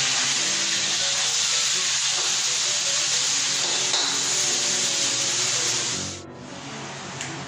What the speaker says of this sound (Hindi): प्याज को जब हमने लाल करते होने ना, तो उसको जो है ना साथ साथ हिलाते रहें